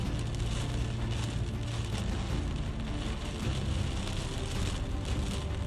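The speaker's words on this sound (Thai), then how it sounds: "ตอนนี้ฝนตกหนักเลยครับ" Heavy storm rain pours down steadily while driving in Lamphun, Thailand, a dense constant patter and roar with no pauses.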